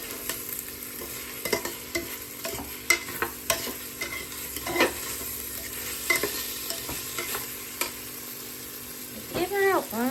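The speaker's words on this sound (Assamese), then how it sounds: "এতিয়া চাউলখিনি দি দিলোঁ। চাউলখিনি দি অলপ লৰাই থাকিলোঁ।" Rice stirred with a utensil as it fries in a pot for pulao, giving repeated scraping strokes over a low sizzle at moderate, close volume, with a few brief voices near the end.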